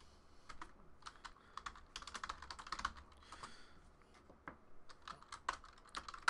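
Rapid typing on a computer keyboard while entering trading card hits, with irregular bursts of close, crisp key clicks and short pauses, no speech.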